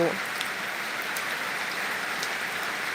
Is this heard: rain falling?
yes